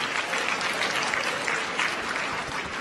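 An audience at a Rwandan diaspora gathering in Maine claps in a steady, dense burst of applause, uniform and unbroken for about three seconds.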